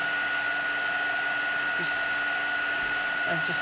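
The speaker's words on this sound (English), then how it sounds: "I love heat embossing." A heat embossing tool blows hot air in a steady, even whoosh with a constant whine running through it, close and alone, while embossing powder is melted on a chalkboard-style stamped card.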